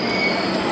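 The Kolkata–Amritsar Akal Takht Express pulls out of Kolkata station, a loud steady rumble of wheels with a thin metallic squeal heard from inside the carriage.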